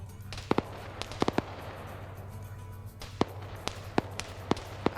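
Bursts of BTR 7.62 coaxial machine gun fire in a military shooter game: sharp distant cracks in short clusters of two or three shots over a steady background hum.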